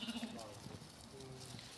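Faint, distant sheep bleat once briefly against a low, steady outdoor background.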